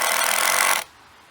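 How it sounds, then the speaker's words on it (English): A power drill drives screws into wood upright pieces of a pig shelter, a loud steady whirring burst that runs for most of a second and then cuts off abruptly, leaving quiet. "putting screws in these upright pieces from the other side just to give it a little bit more stability"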